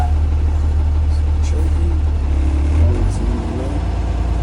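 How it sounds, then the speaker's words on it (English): A school bus engine, in drive during a parking brake test, revs up to a steady 1100 RPM with a low, loud continuous drone that dips near the end, while someone talks over it. "we're gonna step on the gas to 1100 RPMs for 3 seconds"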